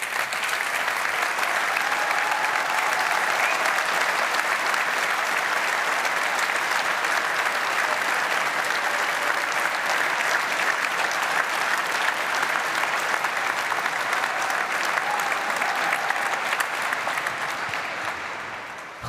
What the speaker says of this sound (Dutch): Mag ik jullie vragen om nog 1 keer allemaal op te staan en dan gaan we nog 1 keer klappen.